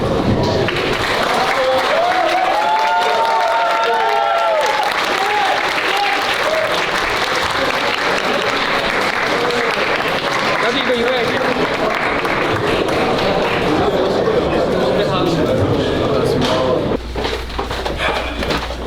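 Sustained applause from a fight-event audience honoring a returning fighter, loud and dense throughout with crowd noise mixed in, tapering slightly near the end.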